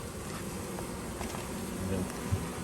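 Honeybees buzz steadily at an apiary while a beekeeper in a bee suit checks on the queen, a dense continuous drone up close with no voices.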